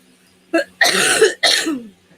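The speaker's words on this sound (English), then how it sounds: "I apologize for coughing" One person coughs three times, a short cough followed by two longer, harsh bursts, close and loud against a quiet room.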